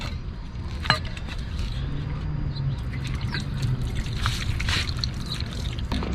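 Soapy water sloshes and trickles while a curb-rashed wheel rim on a Dodge Charger Hellcat is scrubbed, with irregular wet splashes and a brief sharp knock near the start.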